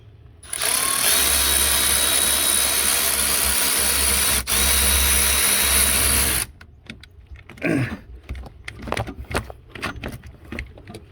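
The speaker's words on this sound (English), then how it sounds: "Had to go get my Milwaukee. Take this bolt out." Milwaukee power tool spinning loud and steady for about six seconds while removing a bolt from the alternator of a 2002 Ford Expedition 5.4 liter, then stopping, followed by quieter clinks and handling sounds.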